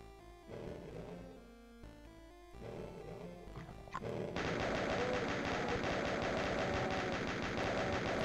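Sustained rapid enemy gunfire in the Doom refinery level, with rattling bursts in the first seconds that swell into a loud, continuous barrage of shots and impacts from about four seconds on.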